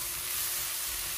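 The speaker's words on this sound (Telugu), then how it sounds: "ఉల్లిపాయలు, పచ్చిమిరపకాయలు వేగుతున్నప్పుడు" Chopped onions and green chillies fry in a pan with a steady, even sizzling hiss, close and continuous, with no voices.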